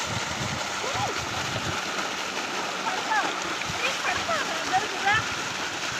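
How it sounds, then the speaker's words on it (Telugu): Water flows and splashes steadily through a farm field, a continuous close wash with faint bird-like chirps scattered on top and soft voices in the background. "వాటర్ ఫ్లో చూడండి ఎలా ఉందో"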